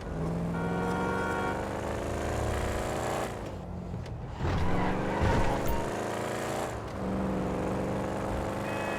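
A powerful motorcycle engine in the GTA 5 video game drones loudly and steadily, dipping briefly mid-way before revving back up with gear shifts, heard close and with no voices over it.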